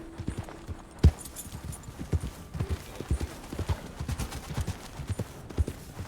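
Horse hooves clip-clop in the Red Dead Redemption 2 video game, a steady run of moderately close, irregular thuds with one sharper knock near the start and faint background ambience.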